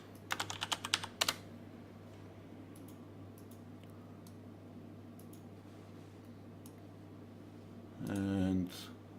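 A burst of quick keystrokes on a computer keyboard typing a terminal command, close and crisp, followed by a quiet pause and a final louder key press, with soft talking nearby.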